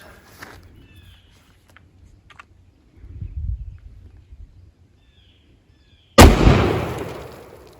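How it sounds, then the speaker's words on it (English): A 12 gauge shotgun fires a cut shell at water jugs outdoors: quiet rustling and footsteps, then a single loud, sharp blast that rings out and decays over a second or so. "so I'm going to try it, see if we can shoot some water jugs"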